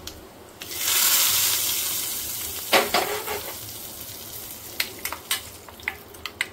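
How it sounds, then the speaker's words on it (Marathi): Hot cumin tempering poured into cooked dal bursts into a loud sizzle that fades to a steady hiss, followed by several sharp clinks of utensils, with no talking. "आता ही गरम गरम फोडणी अशी मी यामध्ये टाकते."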